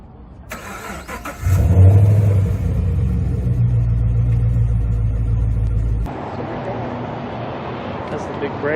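An LS3 V8 Camaro cranks and fires with a sharp burst, then settles into a loud, deep, lumpy idle that drops a little lower after a few seconds; people talk nearby.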